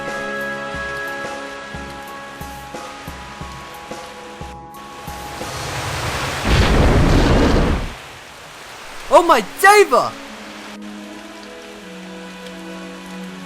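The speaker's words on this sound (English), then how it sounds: "This storm seems to have no sign of letting up." Heavy rain from a thunderstorm in a video game cutscene, a steady wash of downpour throughout with a louder surge midway, under a spoken exclamation and brief background music.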